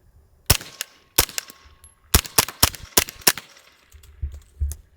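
Suppressed 9mm pistol-caliber carbine firing subsonic rounds, a string of about eight sharp, fairly close reports in an irregular rhythm with brief ringing decay, the last ones softer and more muffled.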